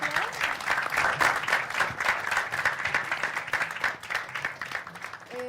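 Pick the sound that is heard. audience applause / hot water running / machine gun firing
audience applause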